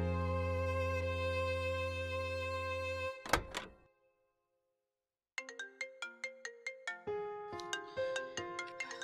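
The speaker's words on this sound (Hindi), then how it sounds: "लो आ गया खुदाई फौजदार का फोन।" A phone ringtone plays a melodic pattern, cuts off with a thunk and a pause, then a bright chiming ringtone resumes in quick repeated notes.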